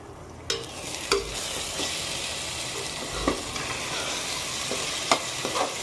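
Masala for peas pulao is stirred in oil: a steady sizzle broken by intermittent clicks and scrapes of a spoon against the pan.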